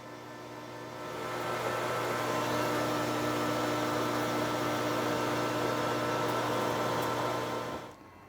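A lathe cuts a cold rolled steel bushing at high RPM, a steady whirring hum with a hissing cut that swells in, holds evenly for several seconds, then drops away as the cut ends.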